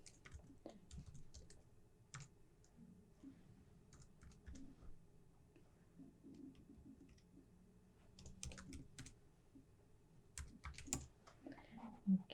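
Someone typing an email address on a computer keyboard: quick, irregular bursts of close, crisp key clicks with short pauses between runs and a louder tap at the end.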